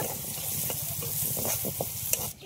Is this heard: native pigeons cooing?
no